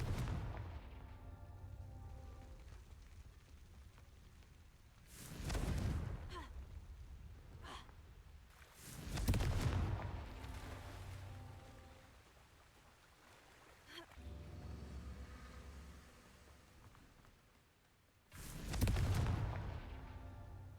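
A Confringo blasting spell in a Harry Potter video game, heard as several booming bursts with rumbling tails spaced a few seconds apart, moderately loud over a quiet game ambience, no speech.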